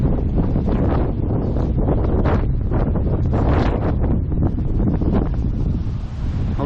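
Strong gusting wind buffeting a GoPro 8 camera microphone outdoors near Toronto, a loud continuous rumbling roar with rapid gust pulses and no talk.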